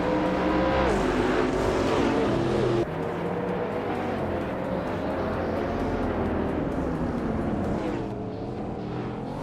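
Race cars roar in close pursuit as two drivers run nose to tail for second place, a loud, sustained engine drone with shifting pitch sweeps and a brief drop in intensity partway through.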